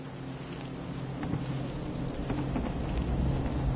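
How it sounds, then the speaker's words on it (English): Steady rain hisses continuously with scattered drops tapping nearby, fairly faint, gradually building a little louder. "Thinking how wonderful it would be to get out of this infernal rain."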